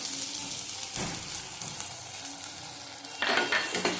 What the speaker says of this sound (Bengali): আবার কষিয়ে নেবো ভালো করে